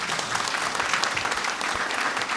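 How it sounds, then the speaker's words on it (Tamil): Congregation clapping in thanksgiving to God during Tamil Eucharistic adoration in a Paris church, a dense, steady wash of many hands sustained throughout without pause. "கைத்தட்டி கடவுளுக்கு நன்றி செலுத்து."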